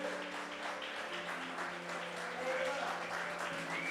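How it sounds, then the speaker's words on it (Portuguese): A church congregation applauding during a worship service, a continuous dense clapping over a sustained musical hum, with voices mixed in. "Diga aleluia, meu irmão, e aplaude de verdade"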